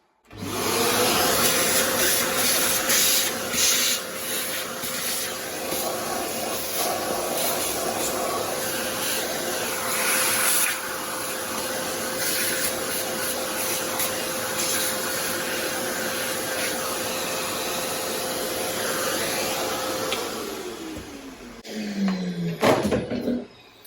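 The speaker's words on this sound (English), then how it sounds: "And of course I'm removing the chips with vacuum" A vacuum cleaner sucks metal chips off a mini lathe, its loud steady whine running nearly unbroken for about twenty seconds before it winds down, with a few rattling knocks of chips and hose near the end.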